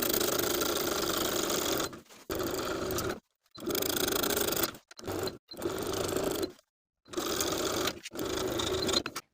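A sewing machine stitches a facing to the neckline of a cropped boxy top's bodice at a 3/8 inch seam allowance, running in steady whirring bursts of one to two seconds separated by brief silent stops.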